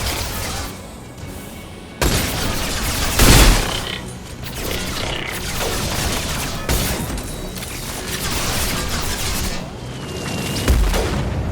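Gunfire and a grenade blast in the Mass Effect game, with bursts of shooting and a loud booming impact near the start, then heavy, continuous combat noise with further hits.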